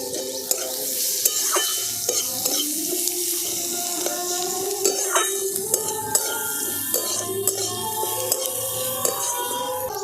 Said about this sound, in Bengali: পেঁয়াজটাকেও একটু নেড়ে নিয়েছি